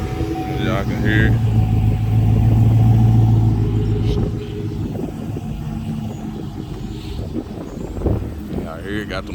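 A 2010 Chevy Silverado pickup idles through aftermarket exhaust pipes, a loud low rumble that swells and eases, heard close with someone talking over it.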